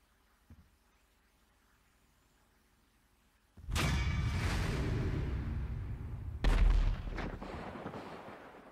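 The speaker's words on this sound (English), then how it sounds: "This is a random explosion." A sudden loud explosion in Grand Theft Auto V bursts out of near silence, roars for several seconds, then a second heavy blast hits and rumbles on without any voices.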